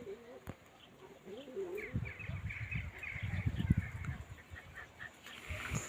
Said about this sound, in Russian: У нас голуби.